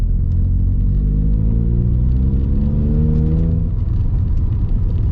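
A Skoda Fabia 1.2 HTP engine rumbles close by with a low throaty exhaust, its pitch rising slightly as it revs, then settling back down.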